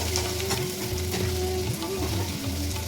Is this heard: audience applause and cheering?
no